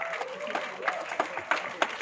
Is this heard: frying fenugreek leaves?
no